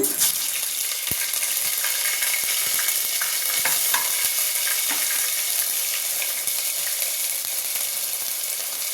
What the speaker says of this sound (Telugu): ఇప్పుడు అల్లం వెల్లుల్లి పేస్ట్ వేద్దాము